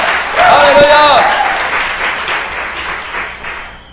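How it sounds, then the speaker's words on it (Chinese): A congregation at a Saturday church service breaks into loud, sustained applause for Jesus, with a voice calling out over the clapping early on before the applause slowly tapers off. "再一次，我掌声献给耶稣"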